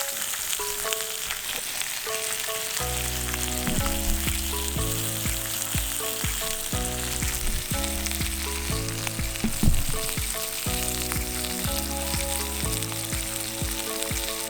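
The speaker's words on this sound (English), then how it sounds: "Right now, have a steak finishing up on the grill." Steak sizzling on a grill over a campfire, a loud continuous crackling sizzle that runs steadily with no talk over it.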